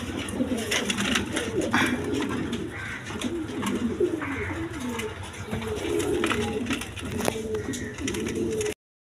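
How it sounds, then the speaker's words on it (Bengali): A pair of big American Lakka pigeons cooing steadily and close, with soft overlapping coos and low murmurs against a busy background. "এইখানে এক পেয়ার লক্ষা কবুতর আছে, আমেরিকান লক্ষা"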